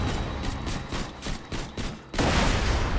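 Borderlands 2 firefight with enemies and Buzzard aircraft shooting, heard as rapid, evenly spaced bursts of gunfire, then a louder, denser wash of shots and impacts near the end.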